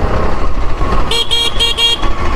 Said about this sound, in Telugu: హార్నే